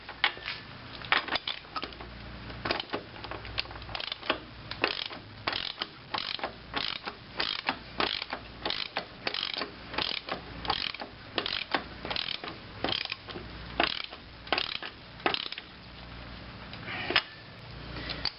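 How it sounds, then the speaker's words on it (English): A torque wrench tightens a new 30 mm axle nut on the front hub of a 1997 Pontiac Grand Am, clicking in a steady series of sharp ratcheting strokes, close and alone. "this nut's under some major torque, so hence the torque wrench"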